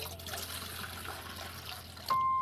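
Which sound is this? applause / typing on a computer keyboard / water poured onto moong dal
water poured onto moong dal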